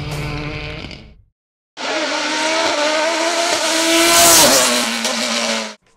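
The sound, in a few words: race car at the Limonest hill climb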